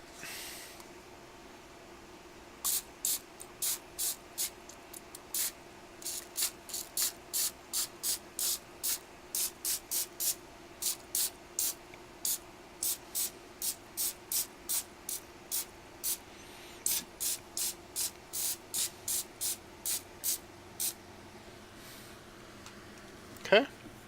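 Baking spray hits a donut pan in a long run of short, sharp hissing spurts, dozens of quick evenly paced bursts close by over a faint room hum.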